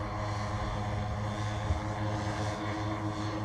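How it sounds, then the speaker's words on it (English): Steady, buzzing drone of four 20 cc Poulan weed whacker gas engines powering a large model warbird with a six-foot tail, loud and continuous with no breaks. "It is flown by 4 Poulin Weed Whacker engines, and they're all gas engines, 20 cc's."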